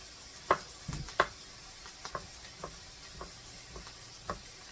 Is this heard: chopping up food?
yes